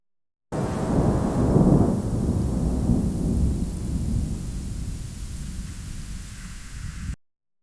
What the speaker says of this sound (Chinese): 这是一个闪电和下雨的声音